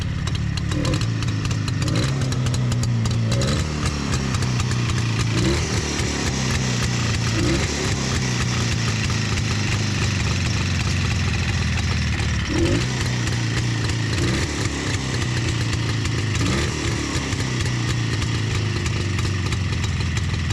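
A 1967 Jawa 350/360 motorcycle engine idles steadily up close, a continuous loud mid-pitched thrum with faint periodic blips, its carburettor slightly out of adjustment, and no voices.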